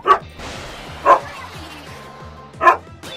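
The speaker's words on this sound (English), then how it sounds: "Here's my dog." A pet dog barks at home during a Splatoon game stream, three sharp separate barks spaced about a second apart, loud and close over a steady musical background.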